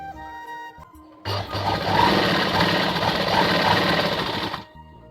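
Sewing machine running steadily for a few seconds while stitching a folded half-inch hem along a lungi, a continuous close mechanical whir that starts and stops cleanly.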